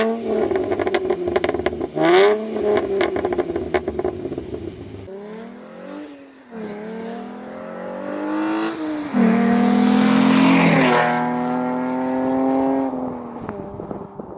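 A 2014 Roush V6 Mustang with a manual gearbox revving hard, its engine note climbing and falling through repeated loud throttle blips, close and without talk.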